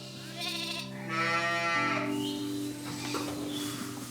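Sheep bleating on a farm, several overlapping calls with wavering harmonic tones, fairly close and moderately loud, with no talking.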